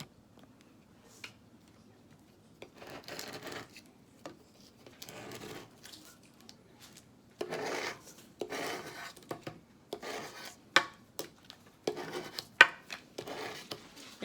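A Cricut scraper rubs heat transfer vinyl onto a hat, producing repeated close scraping and rubbing strokes in irregular bursts with short pauses and a few sharp ticks between them.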